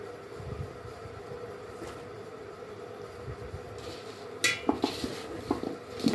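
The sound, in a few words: mixing mango pickle in a vessel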